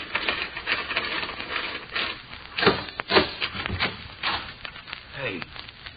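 Several door bolts and latches are drawn back on a door, a series of scraping, clunking wooden and metal knocks at close range, with faint room noise between them.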